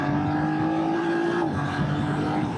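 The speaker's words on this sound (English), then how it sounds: "I'm going to cog it down into third, hold the 50, and we're going to give it a, up the hill" A 2025 BMW F900R motorcycle pulls hard uphill in third gear, its engine note loud, close and steady with a rising pitch, and a brief shift in tone midway through.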